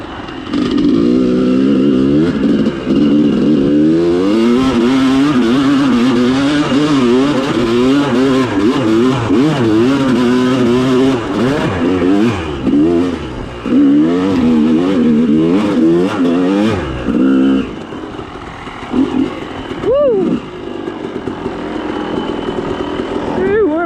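A motorcycle engine revs hard and loud at close range, its pitch climbing and dropping again and again as it pulls wheelies and breaks traction, with brief gaps between bursts and a voice partly heard over the roar.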